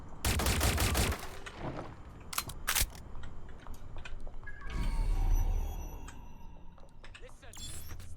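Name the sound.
gunfire in a video game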